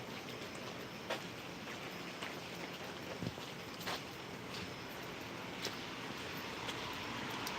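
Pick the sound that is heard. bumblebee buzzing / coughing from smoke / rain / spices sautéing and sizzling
rain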